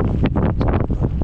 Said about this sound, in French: le vent de face